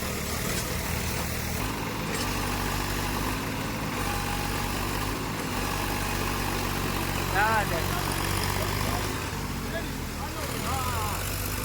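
A tractor engine idles low and steady throughout, a constant rumble with faint higher whines drifting over it and no breaks.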